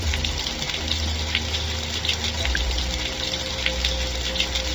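Water in the Second Life game world, a steady rushing gush with a low pump-like hum beneath it, continuous and moderately loud with no talking.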